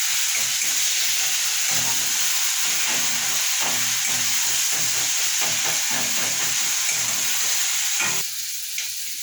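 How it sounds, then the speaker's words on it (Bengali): Tomato masala for a Bengali fish curry fries in oil with a continuous loud sizzle and hiss, broken by repeated stirring scrapes, easing slightly at the very end. "এটা আমার ভাজা হয়ে গেছে আর টমেটো থেকে তেলও ছেড়ে দিয়েছে"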